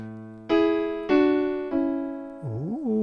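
Piano chords built on the fourth degree in a reharmonization ring out clearly, struck three times in succession, each sustaining and decaying before the next, followed by a brief wavering tone.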